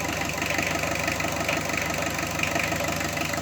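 A small car's petrol engine idles right after starting, a steady close rumble with a faint rhythmic knock running unbroken throughout.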